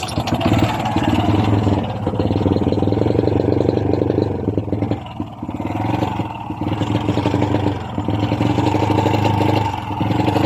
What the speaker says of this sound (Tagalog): Palyado pa rin ang motor ni bossing. Hirap pa rin makabuelo, no?